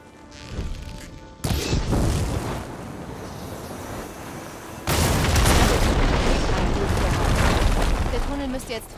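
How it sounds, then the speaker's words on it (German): Blaze barrels hit by a fire arrow explode in Horizon Forbidden West: a loud boom at about one and a half seconds, then a heavier crashing blast that roars on with rumbling debris, while a voice talks. "Ein Schuss mit Feuermunition auf diese Lohefässer dürfte ausreichen."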